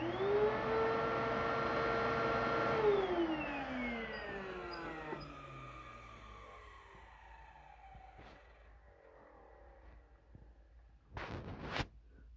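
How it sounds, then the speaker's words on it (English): A Hoover Wind Tunnel vacuum cleaner with a 12 amp motor runs with a loud whining roar, then powers down, its pitch sliding lower as it winds off into quiet, followed by a short burst of clatter near the end. "So here I'll just do a sound test first. So here comes the Hoover wind tunnel"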